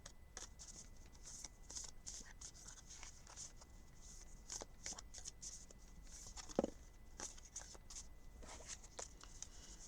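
Oracle cards being shuffled by hand, a steady run of soft riffling flicks and taps close up, with one sharper click partway through.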